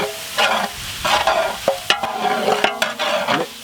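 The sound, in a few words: stirring spices frying in pan for snail gravy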